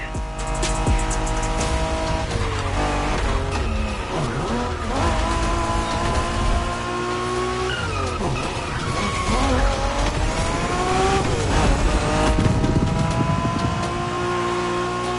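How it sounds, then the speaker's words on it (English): Street racing cars in the video game Motorfest rev hard and skid with long tire squeals and sweeping engine pitch changes, loud and continuous throughout. "We're going for some proper Japanese street racing."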